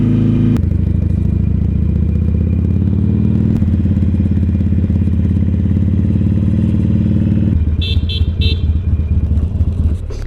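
A motorcycle rumbles along with engine pitch rising and dropping through gear changes, a couple of sharp clunks, and a short rattling clatter near the end.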